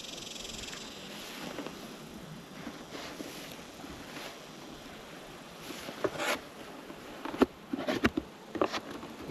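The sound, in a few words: bees buzzing while checking beehives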